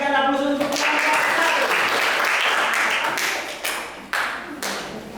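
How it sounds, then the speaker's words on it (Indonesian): Classroom applause from a group of students for the first presenting group, a dense burst of many hands clapping loudly and continuously, fading slightly near the end with a voice mixed in. "kita berikan aplaus untuk kelompok"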